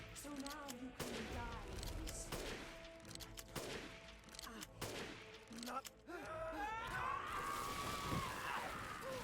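Gunfire in the horror game Resident Evil Village, Chris fighting Miranda: repeated sharp shots spaced through a busy mix of game effects, groans and a rising whine near the end.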